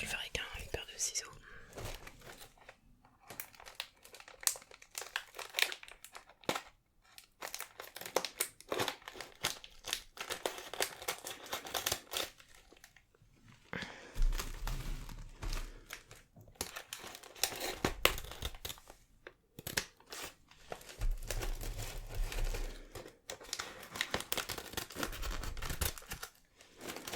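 A biscuit packet is cut open with scissors in close, quiet detail: sharp snips and crinkling plastic arrive in scattered bursts, separated by pauses, with soft whispered talk in between.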